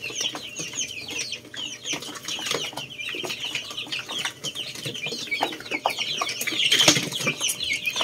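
Young Rhode Island Red, Black Australorp and Golden Buff Orpington chicks peep and cluck continuously in a busy brooder chorus, with a brief flutter of wings near the end.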